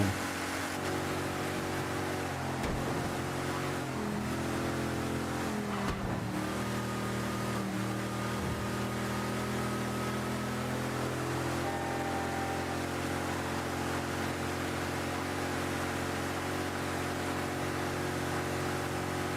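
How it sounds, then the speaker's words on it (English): A steady car engine hum in the video game Mafia III drones continuously with layered tonal harmonics, shifting slightly in pitch as it revs, with no talking. "Listen to that engine hum."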